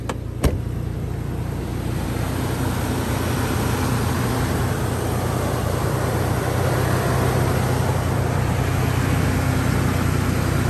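A steady, broad road roar of a car passing nearby, holding at a constant loudness throughout with a brief click near the start.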